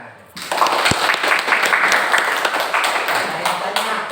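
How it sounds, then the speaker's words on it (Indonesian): A classroom group breaks into hand clapping after a short quiet moment, a lively, uneven burst of many hands that stays fairly loud for several seconds, with voices mixed in. "Kita boleh tepuk tangan."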